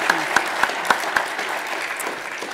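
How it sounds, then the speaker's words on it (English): Audience applause at the Co-op Congress 2024, opening with a few sharp separate claps that blend into a steady wash of clapping, heard fairly close and without talk. "let's just give them a round of applause for sharing what they've shared"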